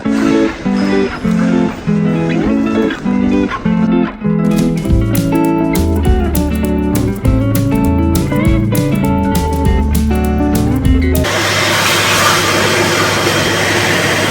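A hand dryer in a restroom at Abu Dhabi Airport roars with a steady, loud rush for the last few seconds, after a long stretch of rhythmic music.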